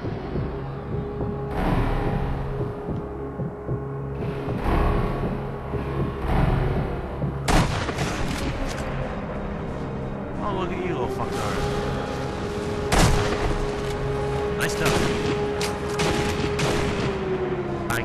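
Rifle and gunfire shots ring out in the Sniper Elite V2 shooter, several sharp cracks spread across a busy game soundscape with a sustained tonal hum and background activity.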